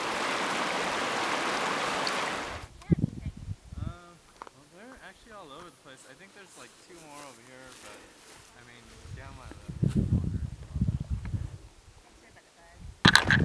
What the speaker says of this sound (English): We just crossed Bear Creek and it's pretty low.